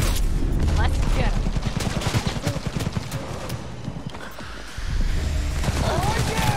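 Rapid gunfire in the video game Cyberpunk 2077 with auto-targeting bullets, dense bursts of shots rattling steadily with a brief lull near the end before resuming, under game action and a voice.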